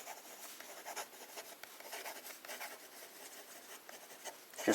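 Fountain pen nib writing in large letters on cheap paper with reddish-brown Diamine Oxblood ink, a soft continuous scratchy rasp of strokes with small pauses, close and quiet, no voices.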